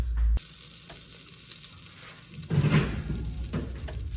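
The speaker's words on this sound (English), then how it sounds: "the butter, which is already in the pan melting" Butter melting and browning in a hot pan gives a steady soft sizzle that swells louder and crackles midway through, close and continuous.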